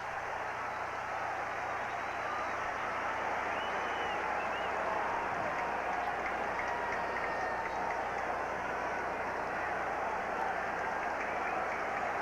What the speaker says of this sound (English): Oh, the crowd pulling for it again.